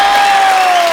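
Studio audience at The Kapil Sharma Show bursts into loud cheering and clapping, a full, sustained crowd roar with a high whistle-like tone running through it.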